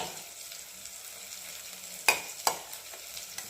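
Onion and green chili are tempered in hot oil in a pan, giving a soft steady sizzle with two distinct spatula scrapes and a lighter tap near the end, no speech.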